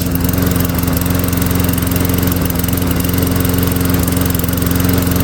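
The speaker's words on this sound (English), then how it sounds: "The pink mower lives." A freshly repaired lawn mower with a new engine, repainted pink, runs steadily at a constant loud, close drone with a fast even pulse and no talk.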